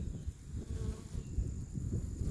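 Many bees buzz continuously at close range around a hive, a low droning hum with shifting swells, no voices present.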